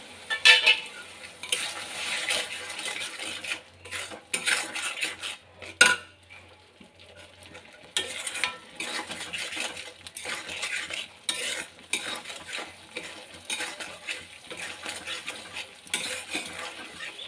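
Spice paste with salt and a splash of water is stirred and fried in a pan for a deshi tangra fish curry. Quick clattering spatula scrapes sound close over a light sizzle, with a brief lull midway and no voices.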